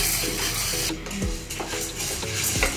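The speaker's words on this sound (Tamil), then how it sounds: "கருகாமல் நல்லா வறுத்துக்கோங்க" Chana dal, split chickpeas, dry-roasting in a pan on a home stove, with a spoon scraping and stirring in quick repeated strokes over a soft, steady sizzle, close up.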